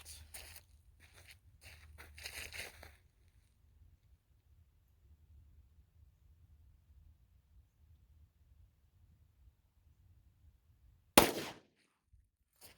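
A single sharp, loud gunshot from a Glock 27 pistol firing .40 S&W Federal HST ammunition outdoors, preceded by quiet rustling and handling noises and a long near-silent pause.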